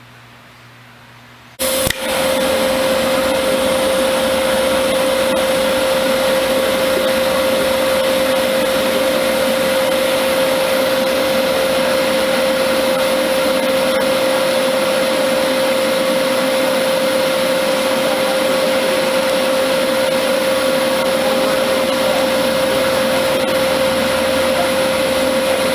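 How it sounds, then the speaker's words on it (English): A polishing machine spins up suddenly and runs loud and steady with a constant whine, grinding extra weld off the upper tang of a Colt Lightning revolver, continuous to the end. "as we're polishing this upper tang, we'll take all that extra weld off"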